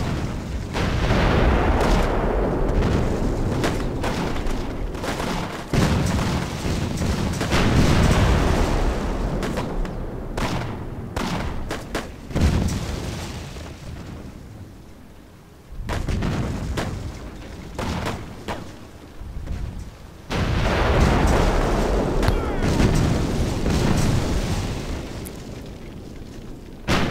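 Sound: mortar artillery fire in video game War Leaders: Clash of Nations

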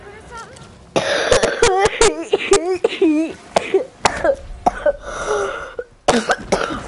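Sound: coughing

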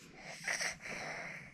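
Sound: baby yawning

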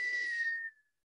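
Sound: long whistle imitated by the reader

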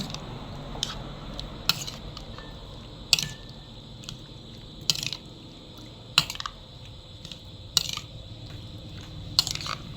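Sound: stirring marinating adobo in a pot

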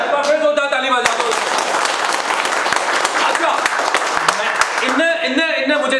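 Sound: audience applause

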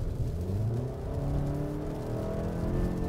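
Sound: SUV engine under hard acceleration

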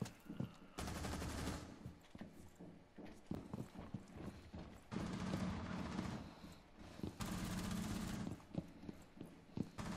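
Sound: gunfire in video game Rainbow Six Siege

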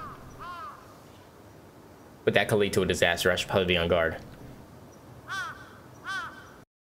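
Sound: crow cawing in the horror video game Akai Onna

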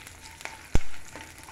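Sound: green chillies frying in hot oil for mint chutney

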